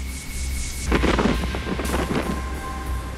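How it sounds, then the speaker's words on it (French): A raging stormy sea surges along the French coast with a deep, continuous roar, crashing rumbles and wind buffeting close to the microphone. "Une mer déchaînée qui détruit tout sur son passage."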